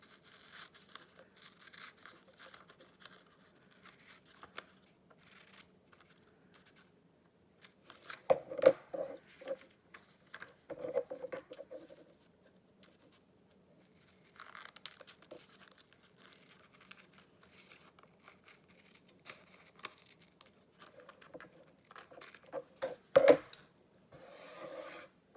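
Scissors cutting away excess fabric from a bra band being altered at the underarm, with soft intermittent snipping and rasping scrapes, quiet and close, separated by near-silent pauses.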